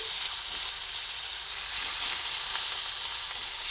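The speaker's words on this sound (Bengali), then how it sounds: "পেঁয়াজ আর রসুন একসঙ্গে দিয়ে ভেজে নিচ্ছি" Onion and garlic fry together in a hot pan, giving a loud, steady, close sizzling hiss that swells slightly partway through, with no voices.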